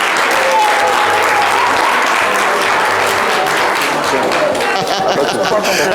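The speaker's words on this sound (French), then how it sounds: "On peut l'applaudir très très fort, viens" Dense, loud studio audience applause at a live French TV show with the group Magic System, sustained and steady for the whole stretch, with crowd chatter mixed in beneath the clapping.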